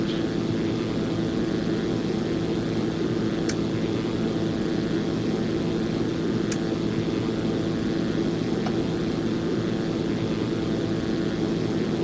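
Steady propeller drone of a Zlin 142 light aircraft in the X-Plane 11 flight simulator, a constant, even engine hum with no rise or fall, broken only by a couple of faint clicks, with no voice over it.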